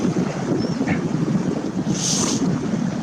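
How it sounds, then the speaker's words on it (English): Steady wind buffeting the microphone, a constant low rumble and roar filling the whole clip with no voices. "you hear the wind. It was really bad wind"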